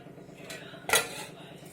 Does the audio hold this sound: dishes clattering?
yes